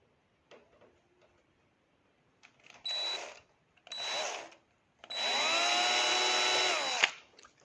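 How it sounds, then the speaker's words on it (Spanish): A small power drill with a fine 1 mm bit bores into the wooden hull of a kayak in three whining bursts, two short ones and then a longer steady run, close up after a few faint clicks. "Hacemos un agujerito en el casco muy pegado a la cuaderna con mucho cuidado de no romper el casco."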